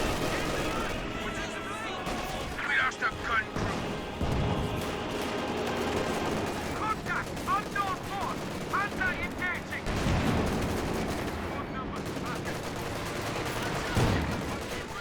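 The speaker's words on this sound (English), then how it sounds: "Sherman tank firing away" A Sherman tank cannon fires in Company of Heroes 2 amid dense battle gunfire, booms and explosions layered continuously, with a commentator talking over the combat.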